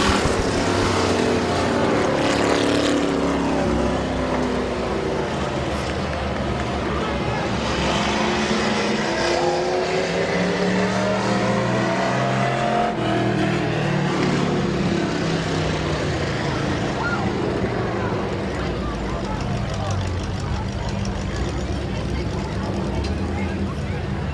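Race cars at Midvale Speedway in Ohio roar past loudly and continuously, engine tones rising and falling with speed, while a commentator talks over the racing.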